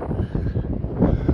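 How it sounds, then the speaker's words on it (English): Wind blusters across a street in Blackpool, a steady, fairly loud rumbling rush of air against the microphone with no talking. "I tell you, it isn't half windy."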